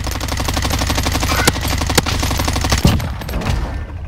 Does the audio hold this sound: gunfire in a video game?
yes